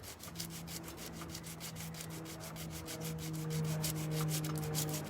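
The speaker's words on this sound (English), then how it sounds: "Oh, Billy said it's bad sandpaper. Oh, God. So that's why it's taking forever." Old paint being sanded by hand with worn, poor-quality sandpaper, heard as a steady series of rhythmic rasping back-and-forth strokes, close and fairly quiet, getting slightly louder toward the end.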